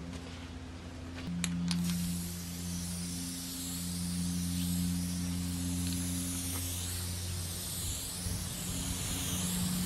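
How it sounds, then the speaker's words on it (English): An aerosol can sprays adhesive onto a 1957 Westerner trailer, a loud steady hiss running nearly the whole time over a low engine-like hum, with no talking. "I don't even like the way this sprays."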